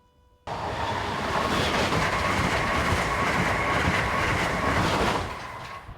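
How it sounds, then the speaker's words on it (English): An Amtrak Acela Express with power car 2024 leading roars past a MARC Penn Line train in Maryland, a loud continuous rush of wheels and air starting abruptly and holding steady before easing slightly at the end. "Amtrak Washington to New York Acela Express, with power car number 2024 leading, passes Mark Penn Line train 537"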